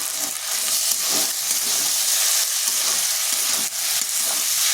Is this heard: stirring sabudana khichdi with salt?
yes